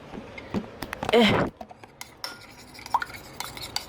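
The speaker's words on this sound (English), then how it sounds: "I'm gonna just use a small spoon to mix this up real good" Small spoon stirring Betty Crocker cupcake batter in a bowl, with scattered clinks and scrapes and one louder burst of rapid stirring, fairly close and with no talking.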